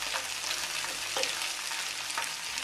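Beef chunks browning in a stew pot while being stirred, a steady close sizzle and frying hiss with a few scraping stir strokes, no talking.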